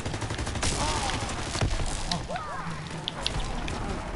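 Dense video game gunfire, rapid crackling shots and bursts layered over a busy background with no clear pauses, with voices talking under the shooting.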